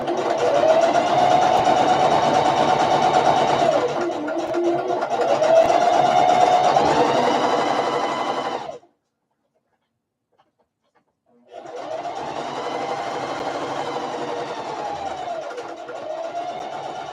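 A sewing machine stitches fabric for a bag in long close runs, a steady mechanical whir with slight speed changes, pausing into silence for a few seconds before starting again.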